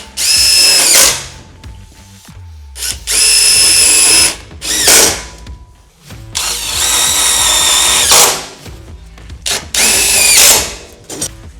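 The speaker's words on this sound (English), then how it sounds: "you're going to use some self-threading screws to go through these holes into the step" Power drill driving self-threading screws through end caps into a Luverne rear grip step for a RAM ProMaster, in several loud whirring bursts separated by short pauses, close up with no talk.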